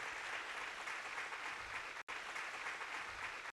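Steady, dense applause from a church congregation, loud and continuous, with a brief cut near the middle before the clapping resumes.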